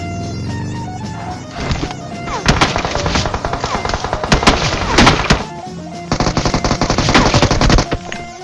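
Automatic weapons fire in PUBG Mobile, with loud, close bursts of rapid shots separated by short gaps.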